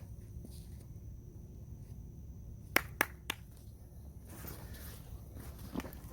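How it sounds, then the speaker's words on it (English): A golfer on the Live Oak course claps for himself, three quick, sharp handclaps close by against quiet outdoor background noise. "Self clap because of the excitement of actually hitting my line cleanly"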